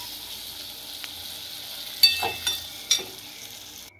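Chopped tomatoes sauté with spices in a pan for chicken dopiaza, a soft steady sizzle broken by a few sharp clinks from stirring.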